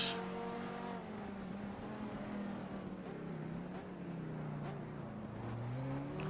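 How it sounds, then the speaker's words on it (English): A Chevrolet race car engine in the racing game GTR2 drones steadily with shifting pitch, its tone rising and falling continuously as it holds a high rev, with no talking. "That Chev sounds so cool."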